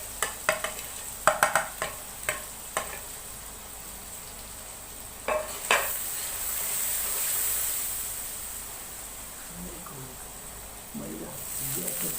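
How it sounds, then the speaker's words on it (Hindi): Spices frying and being stirred in a pan for Pakistani chicken bhindi masala with red tomatoes, a steady soft sizzle with scattered spoon scrapes and taps near the start, fairly quiet throughout. "मसाले को आप अच्छी तरह भून लें।"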